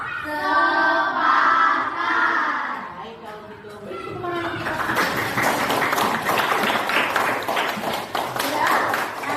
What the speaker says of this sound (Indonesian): beri tepuk tangan kita